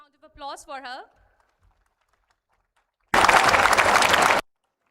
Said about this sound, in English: Please give a huge round of applause for her.